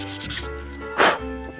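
Sandpaper rubbing over the first coat of varnish on a wooden cabin sole, heard as a few short rough scrubbing strokes, fairly quiet and close.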